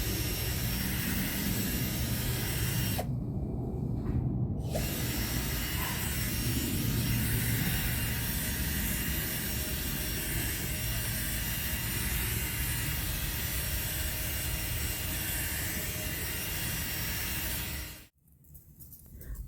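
A steamer runs on a car interior during auto detailing, giving a steady, loud hiss that holds almost without break and cuts out twice, once briefly early on and again near the end.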